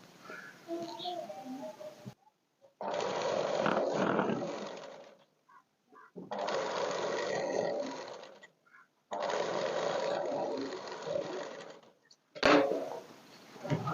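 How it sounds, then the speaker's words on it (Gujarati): A sewing machine stitches the folded slit seam of a dress in three steady runs of a few seconds each. Short quiet pauses separate the runs, and the motor's whir is close and fairly loud. "હવે આપણે બીજી બાજુ પણ કાપાને આ રીતે એકવાર ફોલ્ડ કરી અને બીજી વાર ફોલ્ડ કરો અને સીધી સિલાઈ કરી દો"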